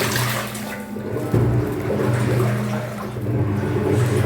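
Water gushes into a Hisense 8 kg top-loading washing machine during its fill cycle, a loud continuous rushing with a low hum underneath and a brief dip and surge partway through.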